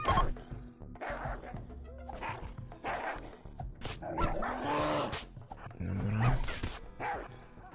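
Dogs attacking in the RimWorld video game, with repeated barks and yelps over scuffling thuds and crashes, fairly loud and dense, mixed with game sound effects.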